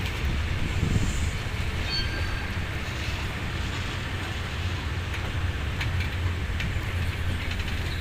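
Steady low rumble of an air-conditioned Blue Train passenger coach of the State Railway of Thailand rolling along, smooth and fairly quiet, with faint clicks and a brief high squeal early on; no voices.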